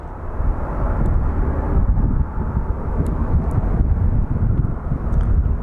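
A departing airliner on the Minneapolis flight roars steadily at a distance from the airport, a broad continuous engine rumble mixed with wind buffeting the microphone.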